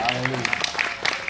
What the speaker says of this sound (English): Let's go ahead and give the Lord a great big clap.